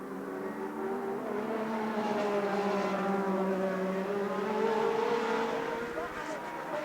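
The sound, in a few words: Brabham BMW Formula 1 car engine, 1982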